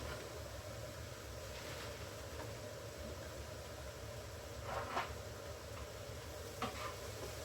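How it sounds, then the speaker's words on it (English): Peppers frying in a pan for a low-carb ground beef Philly cheesesteak casserole give a steady, quiet sizzle, with a few light clicks of a utensil stirring near the middle and end. "we're just going to let our peppers cook up a little bit"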